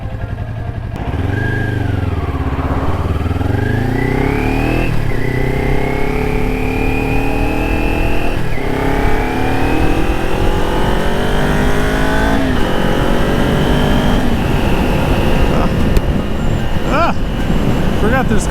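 Engines rev and accelerate near a Thursday-night car show, loud and close, with rising and falling pitch sweeps as vehicles pull away and shift gears, one after another over a continuous road rumble.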